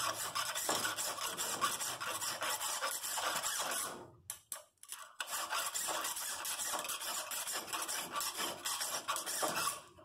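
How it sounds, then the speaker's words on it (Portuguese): Continuous rasping of a metal hand file across a knife guard, steady back-and-forth strokes close up with a brief pause midway before resuming. "Essa lima aqui não tá das melhores não, mas ela vai servir."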